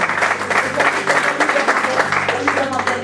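A church congregation claps steadily and fairly close for a few seconds, with voices mixed into the applause.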